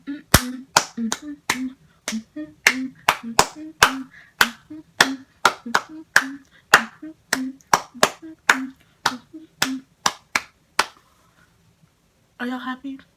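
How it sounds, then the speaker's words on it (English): A single person claps sharply and rhythmically, about two dozen close, crisp hand claps in an even beat, then a brief pause and a short burst of talk at the end. "Clap, clap, clap, clap,"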